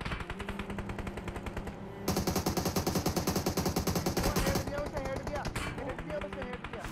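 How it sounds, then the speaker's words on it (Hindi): Rapid automatic gunfire from enemies in an online shooter game, dense bursts of shots rattling close and loud, growing heavier midway before easing off, with a voice talking over the action. "अब जैसे हम वहाँ से निकले तो बंदों का फायर आता हम पे"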